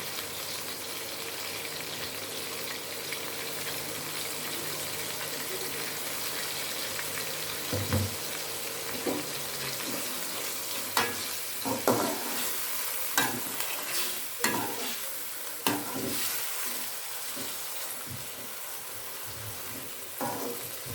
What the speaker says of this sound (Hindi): चिकन हमारा फ्राई हो चुका है